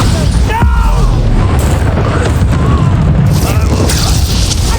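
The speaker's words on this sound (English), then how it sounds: "Expelliarmus, Bombarda!" Loud, dense Bombarda spell blasts with rumbling booms and bursts in the video game Hogwarts Legacy, continuous combat noise filling the whole stretch.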